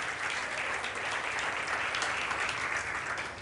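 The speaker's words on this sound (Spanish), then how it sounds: "Muchas mamás, dale un aplauso al Señor" A church congregation applauds together in a dense, continuous wash of clapping that holds steady for a few seconds, close and fairly loud.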